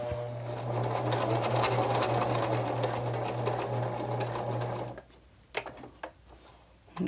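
A sewing machine stitches a layer onto a Christmas card with a steady, fast mechanical whir and a low motor hum for about five seconds. It then stops, leaving a few quiet clicks and handling sounds.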